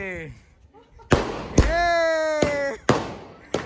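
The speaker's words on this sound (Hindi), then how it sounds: "पटाखे फूटने दो" Firecrackers set off at a family welcome celebration, sharp loud bangs going off in an irregular series of about five, with voices heard between the blasts.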